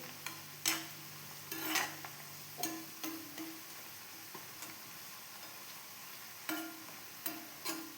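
Homemade hair oil simmering and sizzling in an iron pan, with occasional sharp scrapes and taps of stirring, fairly quiet and close.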